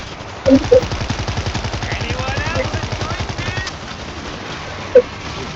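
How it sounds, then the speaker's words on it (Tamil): Rapid, sustained automatic machine gun fire in the zombie shooter World War Z, a long steady burst of evenly spaced shots with a few louder single reports near the start and one near the end. "மேலே மிஷின் கன் போட்டு தாக்கே."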